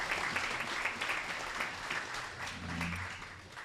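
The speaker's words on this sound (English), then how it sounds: "Ellie, could you please stand up so we can give you a round of applause?" Applause ripples through a room at an after-dinner awards event as a guest stands, a soft, distant wash of many hands clapping at a steady level, with a faint murmur of voices underneath.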